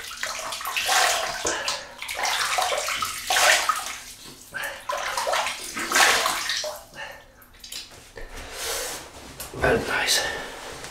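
Tap water runs and splashes into a basin as a face is rinsed after shaving, uneven bursts of splashing and sloshing with short pauses, close and fairly loud, with someone talking intermittently.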